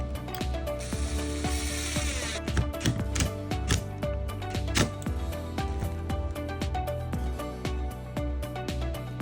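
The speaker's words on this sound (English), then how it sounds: "and then I'll be able to screw it in." Screws are driven into a wooden planter cart base with a steady stream of rapid ratcheting clicks and mechanical whirring, close and continuous, with no talk.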